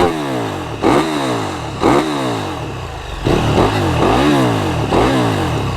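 A KTM Super Duke 1290 R with an Akrapovic exhaust, baffle and catalysts still fitted, revs hard in loud repeated swells, its engine note rising and falling close by with no talk.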